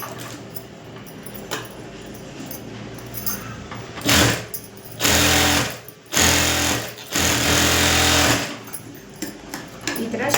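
A sewing machine stitches the back neck of a blouse with a canvas interlining, running in several bursts of loud, steady whirring separated by brief pauses.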